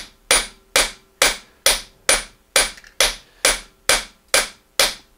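Hammer blows drive a brass rivet in a forming die, eleven sharp metallic strikes, close and loud, spaced evenly about half a second apart, each ringing briefly before the next.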